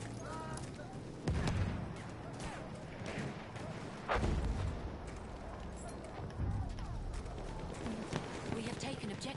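Battlefield 1 gunfire crackles in scattered bursts on both sides, with a few heavier booming shots standing out against a constant battlefield din and a voice talking over it.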